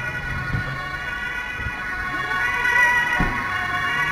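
A police siren from the PC game GTA 5 wails steadily and grows slightly louder, with a few dull thumps from the game underneath and no speech.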